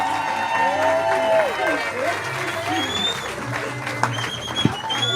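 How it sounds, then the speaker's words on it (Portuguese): A stand-up comedy audience applauding to welcome a comedian onstage: a broad wash of clapping and crowd noise under a host's loud announcing voice. "Muitos aplausos para receber meu amigo,"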